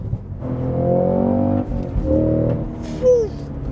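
A 2023 Cadillac CT5-V Blackwing, a 668-horsepower V8 manual sedan, growls loudly up close, its engine note climbing and holding, then dropping off before a brief rev and a short high squeal near the end.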